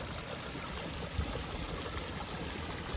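A creek flowing outdoors in woodland, a steady broadband rush and trickle of water heard alone without speech and holding an even level throughout.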